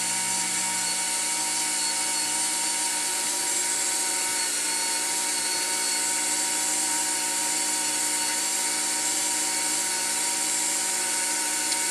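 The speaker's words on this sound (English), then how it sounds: "The Dremel just really speeds things up for me." A Dremel rotary tool polishes sterling silver jewelry, giving a steady, close, high-pitched whine with a grinding hiss that runs unbroken throughout, with no talking.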